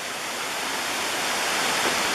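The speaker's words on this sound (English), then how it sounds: "this is a big waterfalls" Steady, loud rushing roar of a large waterfall at Ohiopyle, broad and continuous with no pauses, filling the whole clip.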